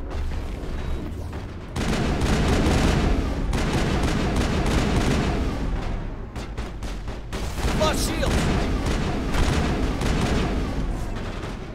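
Gunfire in the video game Mass Effect comes as dense, booming bursts of weapon blasts and explosions in long loud stretches, with short gaps between volleys.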